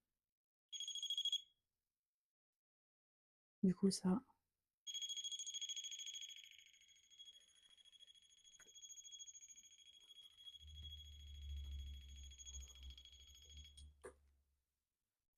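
Paranormal investigation device switched on in a house bedroom, giving a short high electronic beep, then a long steady high tone lasting several seconds, with a low rumble near the end and a brief voice in between.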